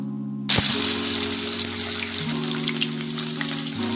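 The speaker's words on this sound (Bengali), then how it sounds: "এখন পনিরটা ভালো করে ভেজে নেব" Paneer cubes dropped into hot oil in a wok burst into a loud, dense sizzle that holds steady and continuous, with a low hum running underneath.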